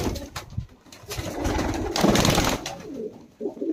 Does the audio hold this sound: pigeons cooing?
yes